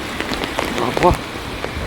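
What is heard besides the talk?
heavy rain at Valparai hill viewpoint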